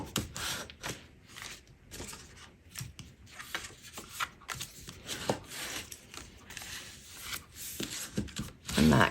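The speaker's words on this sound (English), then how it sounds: "So I'm going to fold on all of my score lines here." Mary Merlot patterned cardstock is folded along score lines for a handmade flower card, giving a run of close, dry paper creases, rubs and soft taps in irregular bursts, with no talking.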